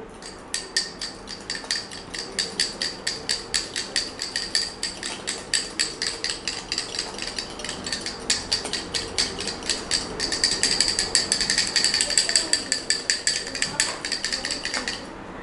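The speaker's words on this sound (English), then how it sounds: "Now I need to whisk this." Whisking an emulsion of oil, vinegar and egg yolk in a cup: a fast, steady metallic ticking of whisk against cup repeats about twice a second for the whole stretch, growing slightly louder and quicker toward the end.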